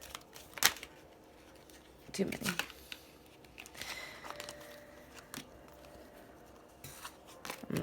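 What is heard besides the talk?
shuffling tarot cards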